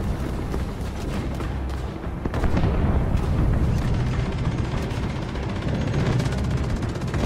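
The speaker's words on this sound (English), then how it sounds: "My pal Siegfried fires his cannon at the advancing tanks" Tank cannon blasts fired at advancing tanks on a D-Day beach, heavy booming artillery and gunfire rolling together in a loud, continuous battle din.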